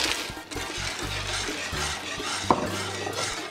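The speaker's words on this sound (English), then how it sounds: "at this point, I'm going to add in the frozen peas" Frozen peas poured into a thickening vegetable sauce in a pot for a vegan pot pie, with soft rattling, stirring and a sharp clink of a utensil against the pot, all close and without talk.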